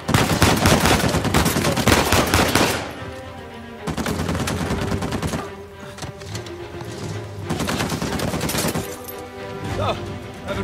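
Heavy automatic gunfire in the video game Uncharted 4 during a chase, loud sustained bursts that ease off briefly and return, with game sounds in the mix.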